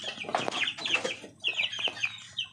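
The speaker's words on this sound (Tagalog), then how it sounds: "ang ingay dito kasi may tandang din dito" Chickens in a backyard farm cluck loudly and close, with a rooster making rough, strained calls. The bursts overlap irregularly and continue throughout, with no speech.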